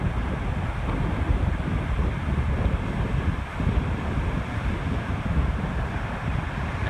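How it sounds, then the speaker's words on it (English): Strong wind of about 25 to 30 mph buffets the microphone on North Manitou Island while rising lake swells wash and surge along the shore in a steady, loud roar with no talk. "I think I was wrong about the winds. I'm thinking they're more like 25 or 30 mile an hour. The swells are really increasing."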